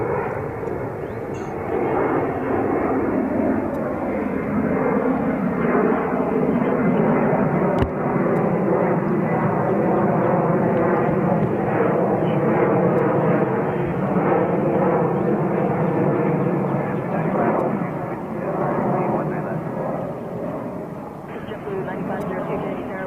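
A five-year-old Boeing 737-932 airliner at JFK airport makes a steady, loud engine roar that lasts the whole stretch and eases slightly near the end, with voices talking over it.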